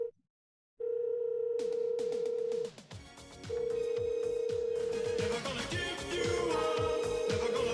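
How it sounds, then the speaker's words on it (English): Phone dialing in the Death Note anime: a steady tone broken into segments by a quick series of bright keypad beeps and clicks, fairly quiet, with no talk over it. "Light pulls out the phone to call her and get L's name and kill L"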